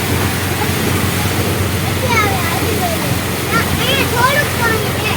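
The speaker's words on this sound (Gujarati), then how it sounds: "આ પાણી અને તળાવ ને બધું એક થઈ ગયું છે અત્યારે" Floodwater from heavy rain flows through a village in Jamnagar where the water and the lake have merged, a steady loud rushing wash with faint chirps and voices over it.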